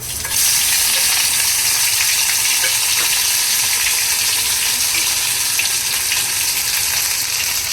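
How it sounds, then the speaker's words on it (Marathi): Ginger sizzles and crackles steadily in about one and a half spoons of hot oil in a pan, a close, dense frying hiss lasting throughout with no talking. "दीड चमचा तेल टाकलाय अद्रक"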